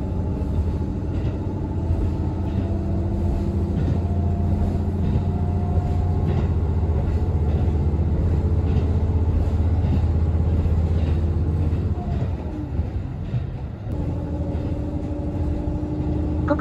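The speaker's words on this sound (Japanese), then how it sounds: "ここからは機動車の走行音と雄大な日高山脈をお楽しみください。" Diesel railcar running on the Sekisho Line in Hokkaido, heard from inside: a continuous low engine drone and rolling rumble, steady and loud throughout, with a brief dip in the engine note near the end and no talking.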